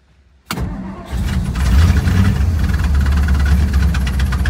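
A 1956 Ford Thunderbird with a rebuilt fuel pump cranks and fires up, then settles into a loud, steady, rumbling idle close by.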